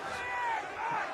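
Large crowd in a Game of Thrones episode shouting and crying out together, a brief, fairly faint burst of massed voices with wavering yells.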